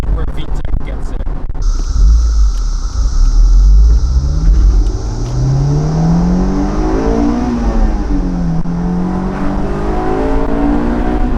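An AP2 Honda S2000 engine pulls hard, its note climbing and sharpening sharply as it reaches VTEC, then shifting and rising again, loud and close with road rumble underneath.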